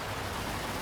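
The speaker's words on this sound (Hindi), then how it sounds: "बारिश बहुत तेज थी।" Heavy rain in a Hindi cartoon: a steady, dense broadband hiss of downpour with no breaks, fairly quiet and continuous throughout.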